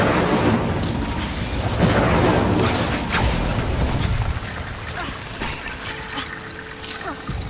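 Bombarda blasting spell from Hogwarts Legacy, a loud booming burst with crumbling, trickling debris that rumbles and then fades away.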